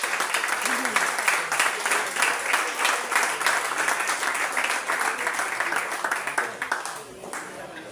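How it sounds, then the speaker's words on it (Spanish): Church congregation applauding together at a Spanish-language service, dense sustained clapping throughout, loud and continuous with voices mixed in, tapering slightly at the end. "¿Puede aplaudir al Señor?"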